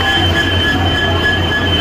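A Garib Rath train arrives at the station with a loud, steady rumble and a high, sustained wheel squeal close by.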